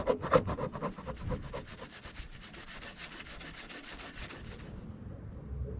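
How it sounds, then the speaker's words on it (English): A wire brush scrubs rust and old brake-light gasket residue off the body of a Mercedes Sprinter or VW Crafter van, with quick, close, rasping back-and-forth strokes in a steady rhythm. "I'm going to need to scrub it down a little bit with a wire brush"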